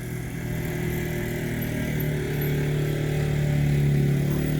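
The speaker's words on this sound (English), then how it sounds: "my neighbor's son just has to ride his moped around the subdivision" A moped ridden around a residential subdivision hums steadily with a droning engine note that rises gradually and slowly shifts pitch, moderately close and unbroken, no voices.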